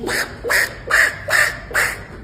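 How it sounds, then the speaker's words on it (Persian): Five evenly spaced duck quacks, loud and close, each a short nasal burst with brief pauses between. "یه صدای اردکه"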